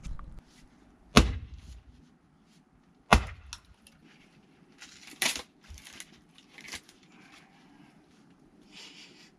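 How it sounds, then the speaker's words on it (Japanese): Logs cut into rounds and split for firewood on a wobbly chopping block outdoors in the countryside in winter, sharp loud cracks of the axe striking wood several seconds apart, with smaller clatters of pieces falling between. "もうひたすらね、玉切りして薪割りをしていくっていう流れですね"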